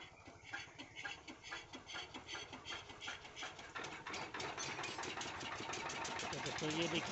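A small engine, just started after a piston repair, runs at a steady, even pace with a continuous rattling, knocking chug that grows slightly louder toward the end, while a voice talks over it.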